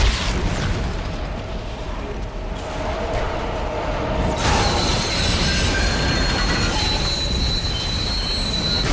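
Tram ride in the Dead Space 2 video game: loud continuous rumbling rail noise with metallic wheel squeal and high screeching tones, building into a harsher, brighter roar midway, with no talking.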